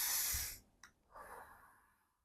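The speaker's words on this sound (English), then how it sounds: "Take a deep breath" A slow, deep breath drawn in and let out, close and alone, with a soft airy rush followed by a quieter exhale.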